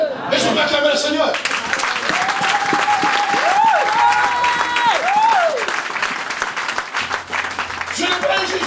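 A congregation at a French-language church service breaks into loud, sustained applause and cheering, with a preacher's voice talking over it and a chanted vocal line rising through the middle.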